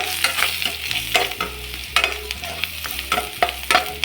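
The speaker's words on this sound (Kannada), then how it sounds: "ಕ್ಲೀನಾಗಿ ಮಿಕ್ಸ್ ಮಾಡ್ಕೊಳ್ಳಿ." A spoon stirs spices and chilli powder into paneer manchurian in a hot pan, with repeated scraping strokes in an uneven rhythm over a constant close sizzle.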